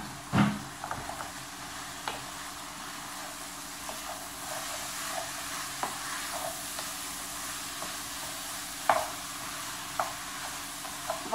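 Meat frying in a pan with leek, a steady soft sizzle punctuated by sharp scraping clicks of a utensil stirring at irregular intervals, close and without talk.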